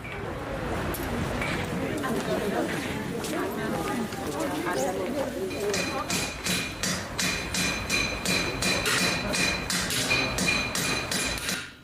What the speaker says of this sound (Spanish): Los martillos aún resuenan en el bazar de la ciudad